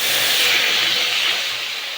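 A splash of water meeting a hot kadai on a lit gas stove, a loud sizzling hiss that is strongest at the start and then slowly softens over two seconds.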